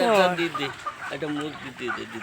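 Chickens at a poultry farm cluck and call in a busy, continuous layered chorus, close and fairly loud, with a person talking over part of it.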